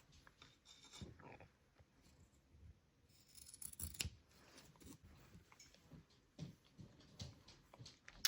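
Quiet snipping of scissors cutting ruffle fabric strips to length, a series of soft irregular cuts and rustles, close and faint, with no talk.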